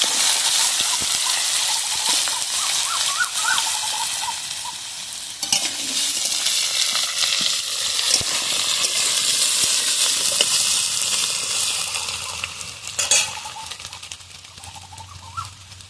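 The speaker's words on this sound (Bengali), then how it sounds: "সয়াবিনটা ভাজার আগে আমি কিন্তু আলুটা আগে ভেজে নেব।" Potatoes fry in oil in a wok with a loud, continuous sizzle throughout. Occasional stirring scrapes break through, and faint bird calls sound in the background.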